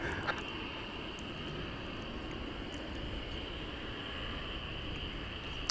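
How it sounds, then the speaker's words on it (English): Qantas Airbus A380 airliner at DFW Airport, a faint, steady broadband jet engine roar heard from a distance, unbroken throughout with no talk. "and there it is, the A380"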